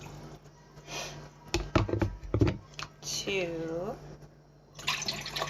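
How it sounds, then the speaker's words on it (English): Water is scooped out with a cup, giving a few wet sloshing and pouring splashes in short bursts, close and fairly quiet, while someone counts aloud between them. "I'm gonna try scooping my water out of here"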